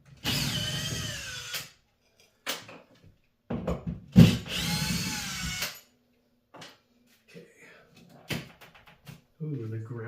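A power drill whines in two bursts of rising pitch as it backs drywall screws out of a bathroom light fixture, separated by quieter handling knocks and pauses.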